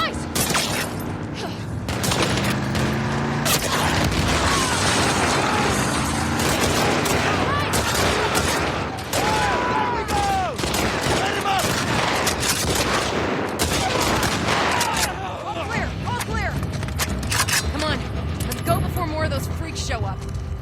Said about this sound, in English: Heard all the shooting.